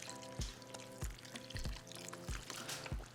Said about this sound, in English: now we can get ready to add our broth